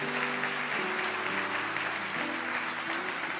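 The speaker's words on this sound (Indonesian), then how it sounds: "Yang percaya di sini kasih tepuk tangan untuk Tuhan." A congregation claps for God during an Indonesian sermon, continuous dense applause at steady loudness with sustained musical tones underneath, likely a keyboard or organ.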